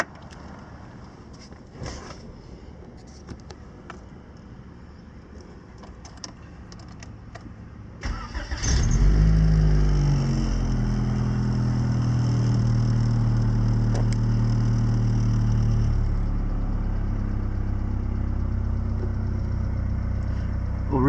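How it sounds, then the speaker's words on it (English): A 1988 Honda Prelude with a rebuilt engine sits quiet for about eight seconds with faint clicks, then the engine cranks and catches loudly and settles into a steady, close idle. "I just turned the car on"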